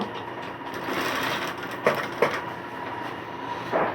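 A sewing machine stitches the hem of a pillow cover, a rapid mechanical whirring and clatter with a few sharper knocks, close and moderately loud.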